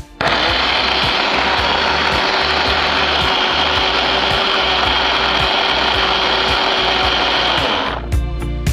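A kitchen mixer grinder purees soaked poha (flattened rice) into a paste for stuffed dosa batter. Its loud, steady whirring roar runs unbroken for about eight seconds, then cuts off near the end.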